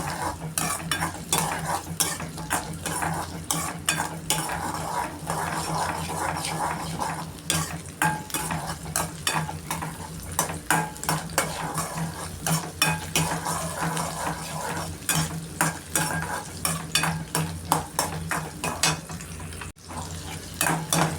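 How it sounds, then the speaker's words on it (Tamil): Ten to fifteen small onions and garlic sauté in a pan for garlic chilli chutney, a continuous close sizzle broken by frequent scraping stirs of a utensil against the metal, with no voices. "ரெண்டும் நல்லா இந்த வெங்காயமும் பூண்டும் நல்லா வணங்கணும்"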